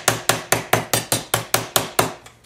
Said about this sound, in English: I use two different hammers with a piece of leather underneath.